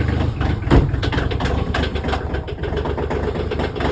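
A diesel truck engine running just after starting in winter, a loud, close, low rumbling idle with a steady knocking pulse throughout.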